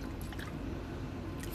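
Water added to chana dal in a cooking pot while spiced with red chili powder and garam masala, a continuous close pouring and sloshing sound, steady and fairly loud throughout.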